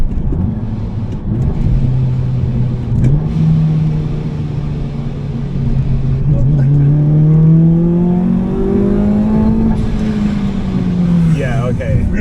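A supercharged Honda Civic FN2 Type R with a K24 engine accelerates hard, its loud engine note climbing steadily in pitch and holding close and strong throughout, with people talking over it.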